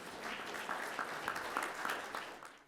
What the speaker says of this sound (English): I want everybody to give a warm, round applause to the Texan, Don Simoneaux.